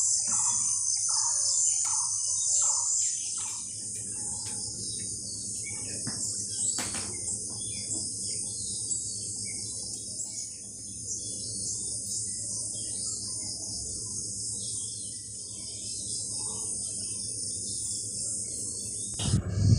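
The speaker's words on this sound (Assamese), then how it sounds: "চৰাইৰ কিচকিচিয়া শব্দ মনটোৱে ভাল লাগি যায়" Morning outdoors brings a dense, continuous wash of insect chirring, with several clear repeated bird chirps near the start and scattered calls afterward.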